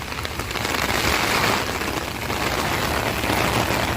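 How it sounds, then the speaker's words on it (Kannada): Heavy rain pouring down outside a temple near the Hulikal ghat, a dense, constant hiss of downpour on surfaces, steady and loud with no voices. "ಮಳೆ ಅಂತೂ ನೋಡಿ ಹುಯ್ತಾ ಐತೆ ಮಳೆ."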